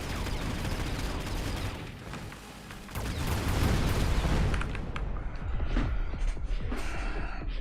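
Phoenix units open fire during a Mechabellum battle, a dense rumble of booms and rapid gunfire bursts that swells midway, then thins into scattered impacts.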